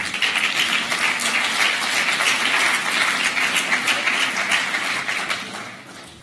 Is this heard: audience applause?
yes